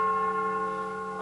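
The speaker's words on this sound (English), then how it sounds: "The bell invites me. Hear it not, Duncan, for it is a knell." A single bell tolls as a death knell on a stage in a youth theatre production of Macbeth, one sustained ringing strike with clear overtones, slowly decaying and heard alone.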